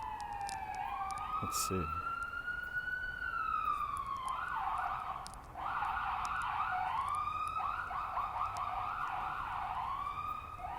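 A wailing siren rises and falls, then switches to a fast yelping pattern, moderately distant, with a brief spoken remark early on.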